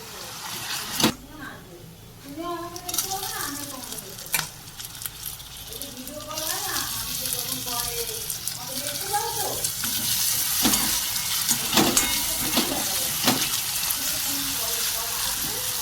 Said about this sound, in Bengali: পেঁয়াজটা ভাজা ভাজা হয়ে যাওয়ার পর এর মধ্যে দিয়ে দিয়েছি আদা রসুনের পেস্ট